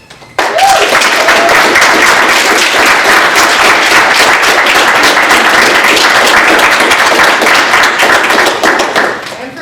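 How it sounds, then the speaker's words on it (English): A loud, dense round of applause breaks out at a student senate meeting after a brief quiet start, with sustained rapid clapping from a close group that fades slightly at the end. "let's do a round of applause for Savani and Nash"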